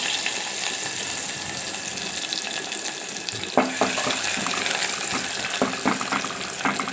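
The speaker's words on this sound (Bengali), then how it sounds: "আমি তেলের মধ্যে এবার পেঁয়াজটা দিয়ে দেবো" Chopped onions are dropped into hot oil in a home kitchen while cooking spinach, producing a steady hissing sizzle that grows more crackly after a sharp splash midway.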